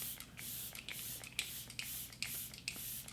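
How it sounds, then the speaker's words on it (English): Facial mist sprayed onto the face during a skincare routine: a quick series of short, soft hissing spritzes in an even rhythm, close and quiet, with no talking. "I am going to spray my face"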